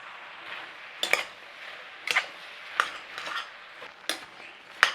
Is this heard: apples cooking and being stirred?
yes